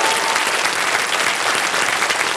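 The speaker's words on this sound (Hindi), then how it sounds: "एक बार तालियां बज जाए इनके लिए।" Studio audience applause on the KBC quiz show for contestant Satnam Singh, dense continuous clapping from a large crowd, loud and even throughout.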